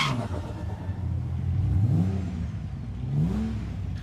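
A small Toyota drag car at Calder Park's Friday night drags accelerates down the strip, its engine revving up through rising pitch sweeps, heard from a moderate distance over a steady background rumble.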